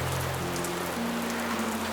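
Steady rain falls as an even, close hiss of drops, with soft sustained low tones humming underneath for the whole short stretch and no talking.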